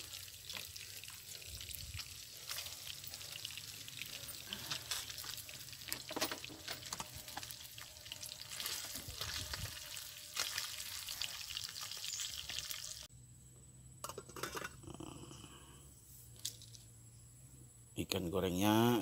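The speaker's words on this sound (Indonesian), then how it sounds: "Wah, ini masak ikan goreng." Fish frying in a pan over an outdoor cooking fire in a forest, a faint crackling sizzle with irregular pops and drips running throughout, under intermittent talk.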